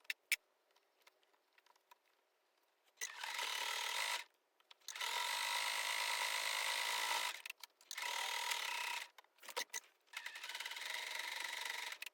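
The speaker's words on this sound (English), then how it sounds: "turning the elastic to the wrong side and sewing with a zigzag on top" Domestic sewing machine zigzag stitching elastic on lingerie, running in several bursts of steady whirring and rapid ticking, with soft handling clicks and quiet pauses between runs.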